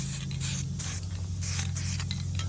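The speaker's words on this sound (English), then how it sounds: "as I'm spraying on the sides" A spray paint can sprays a radial rainbow design in close, continuous hissing bursts with slight pulses, the sound fading in and out as the nozzle is pressed.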